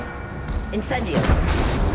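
A fire spell cast in the Hogwarts Legacy video game: a bright whooshing burst flares, then swells into a rushing, roaring blast that holds loud to the end, with a voice heard alongside.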